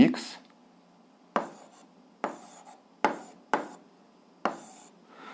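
Pen or chalk writing out an algebra solution, a series of about six separate scratchy strokes, each a sharp onset fading quickly, close and distinct with quiet gaps between.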